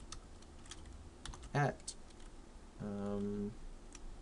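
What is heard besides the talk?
typing on a computer keyboard into a web form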